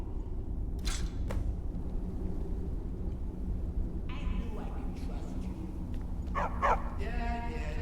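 A dog in the Skyrim video game gives a few short yips and barks amid a steady low game ambience, moderately near and fairly faint.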